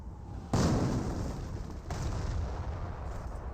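Two heavy cannon blasts from a German 88 gun firing in Company of Heroes, the first sharp and loud with a long rumbling decay, a second blast following over a second later, no talk.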